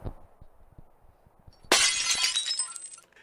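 A glass-repair advertisement uses a glass-shattering effect: a few soft low knocks over near silence, then a sudden loud crash of breaking glass with tinkling shards that ring on and fade out.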